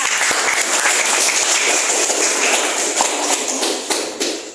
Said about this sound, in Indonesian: kita beri aplaus dulu ya